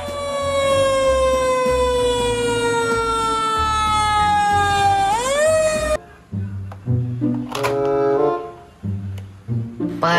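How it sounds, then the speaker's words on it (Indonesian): A fire truck siren sounds a loud, long wail that slowly drops in pitch and then cuts off, after which someone speaks briefly. "Mobil pemadam kebakaran."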